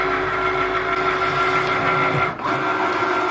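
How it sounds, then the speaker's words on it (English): Cricut Maker cutting heat transfer vinyl, a steady mechanical whir and hum from the machine close by, running continuously with a brief dip partway through. "And then you just press the flashing Cricut button and let it go."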